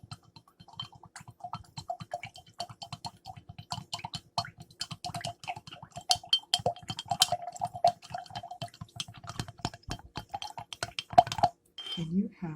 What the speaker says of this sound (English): Give it a quick little stir with the honey inside.